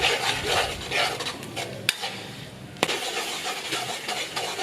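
A tamarind, fish sauce and palm sugar sauce is stir-fried over medium heat for a three-flavour fried sea bass dish. A soft sizzle runs under scraping stirring strokes, with two sharp clacks of a utensil against the pan.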